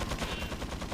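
Gunfire in the Resident Evil 4 video game on Wii, a dense run of rapid shots sounding like a burst, loud and continuous throughout with no talk over it.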